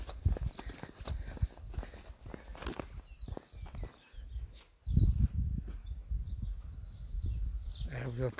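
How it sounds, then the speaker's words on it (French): Birds chirp and trill in the upper range throughout in the Corsican countryside, with footsteps and hoof-like clopping nearby and brief bits of low talk. "Vous entendez la tranquillité, les oiseaux, la nature."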